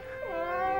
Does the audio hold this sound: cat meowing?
yes